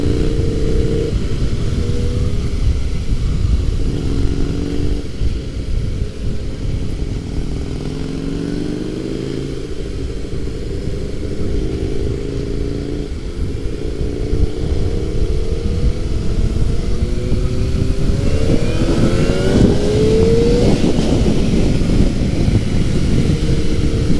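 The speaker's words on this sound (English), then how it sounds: "his bike is loud" A loud, large-displacement motorcycle engine roars close by at a rough steady idle, then revs up with rising, sweeping pitch toward the end.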